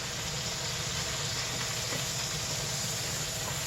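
Sausages and onions cook together in a pan for bangers and mash, giving a steady, even sizzling hiss that holds without break at moderate loudness, with no voices over it.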